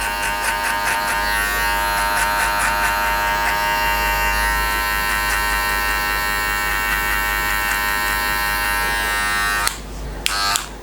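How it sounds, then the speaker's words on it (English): Electric hair clippers fitted with a number 1 metal guard, open lever, cutting a skin fade give a steady close mechanical buzz held for about ten seconds, then cut off into brief handling noise and a short restart. "We're going to follow that by using a number 1 metal cluster guard open to blend right to the foundation,"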